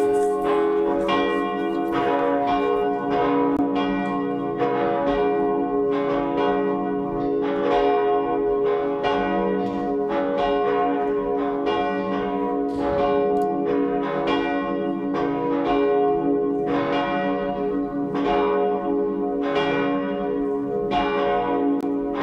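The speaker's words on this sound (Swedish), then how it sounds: "Så får vi lyssna till klockringningen." Cathedral church bells ring out on Palm Sunday in a long, steady peal of overlapping resonant strikes, loud and sustained with no voices.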